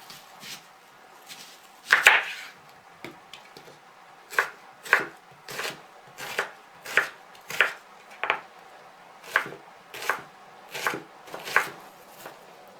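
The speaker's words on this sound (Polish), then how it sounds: "teraz także pokroję w kostkę cebulę" A knife dices onion on a cutting board in a steady series of sharp, distinct thuds, about one per second, close and clear with no talking.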